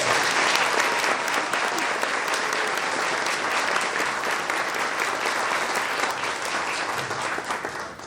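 Audience at the El Monte Promise Foundation Tamalada event applauding three educators, a dense, steady round of clapping from a crowd that holds loud and even for about eight seconds before easing slightly at the end.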